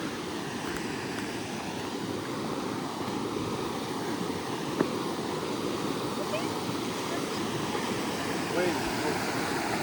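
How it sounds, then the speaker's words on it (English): Water of the San Gabriel Valley River flows in a steady, soft rushing wash outdoors, with a faint breeze and a few small knocks, no one talking. "See, this is the water right here. San Gabriel Valley River."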